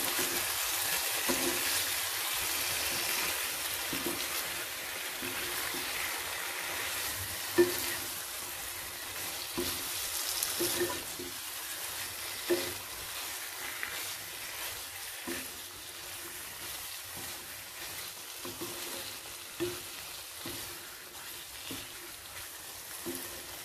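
Chopped onions and capsicum stir-fried in a kadai for kadai chicken give a steady, close sizzle with soft scraping stirs recurring every couple of seconds throughout.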